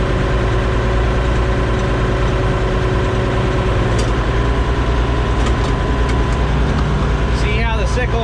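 A farm machine engine with a sickle bar runs loud and steady, a dense mechanical drone with rattling texture throughout, and a brief squeal or whine near the end.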